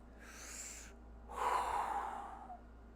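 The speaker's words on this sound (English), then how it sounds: "deep breath." A person draws one deep breath in, audible as a soft airy rush that swells and then fades. It sounds close and fairly quiet, with no talking.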